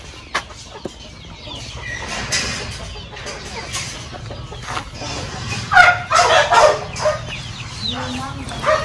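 Rhode Island Red chickens clucking on a poultry farm, several birds calling close by in bursts that grow busier toward the end, with faint talking in the background.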